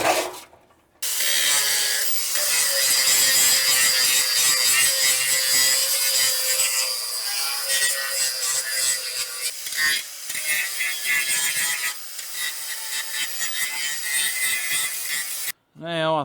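A grinder strips paint from the steel bed side of a 1965 C10 pickup truck. It sounds as a loud, continuous abrasive whine that starts after a second, runs steadily for about fourteen seconds and cuts off near the end.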